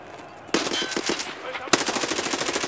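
Video game rifle fed from a double-taped 80-round magazine firing two loud rapid bursts, the first a stuttering run of shots, the second a faster continuous stream close up.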